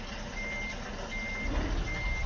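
Reversing beeps from a truck being parked in the Euro Truck Simulator 2 game, set in Italy, sounding as a steady high-pitched repeating tone over a constant low engine hum, with no talking.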